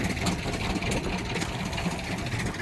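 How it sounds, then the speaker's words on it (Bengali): A fishing trawler's engine idles on a river during hilsa fishing, giving a steady, rough, continuous drone close by with no pauses. "এটা হলো আমাদের ট্রলার, এখন আমরা যাবো ট্রলারে।"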